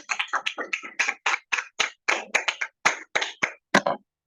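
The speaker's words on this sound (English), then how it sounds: "Round of applause." Applause at a speech marathon, sparse and uneven: a small audience claps in about twenty separate, fairly close hand claps over four seconds, trailing off near the end, with no talking.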